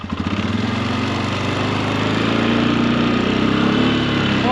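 A Polaris ATV engine runs steadily and loud throughout a ride, a rough mid-pitched rumble with a pulsing throb that holds at a constant level.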